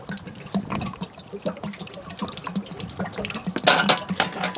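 Water drains steadily from the open plug of a camper's water heater, a continuous splashing, gurgling flow with scattered drips, close and fairly loud with no one talking.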